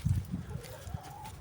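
Chickens on a farm give a few faint, low clucks in quick succession, soft and close in a quiet setting.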